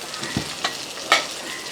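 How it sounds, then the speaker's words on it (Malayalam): Chicken pieces fry in hot oil with a continuous soft sizzle, broken by a few sharp crackles and pops over a couple of seconds. "ഇതും അതേപോലെ തന്നെ നമുക്ക് വറുത്തെടുക്കും"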